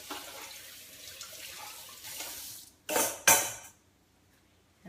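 A mixing bowl is rinsed under a running kitchen tap, a steady hiss of water followed by two short louder splashes and sloshes, then quiet.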